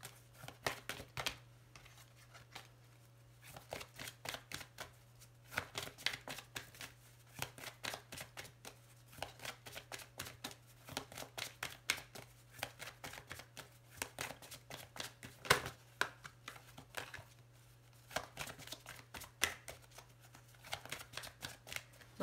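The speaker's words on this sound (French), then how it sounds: "je vais faire une petite coupe avec mon oracle des ombres" A deck of oracle cards being shuffled and cut at a tarot-style reading, with rapid repeated riffling flicks and soft slaps coming in bursts over a long stretch, close to the microphone and without speech.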